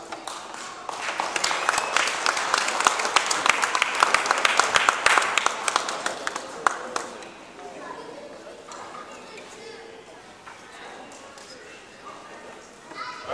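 An audience breaks into sustained applause, dense and lively at first, then thinning into scattered claps beneath chatter and a speaking voice.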